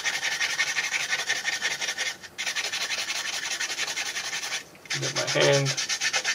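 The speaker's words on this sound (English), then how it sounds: "just give it a little scrub with the brush" A brush scrubs dried salt off a painted model with steady, close rasping strokes, briefly pausing twice, while a voice speaks a few words near the end.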